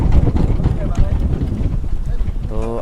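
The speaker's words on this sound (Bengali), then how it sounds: "আর প্রচণ্ড বাতাস বইছে।" Strong wind roars steadily across the microphone out on a rough sea aboard a fishing boat, a dense low buffeting rush with no talk.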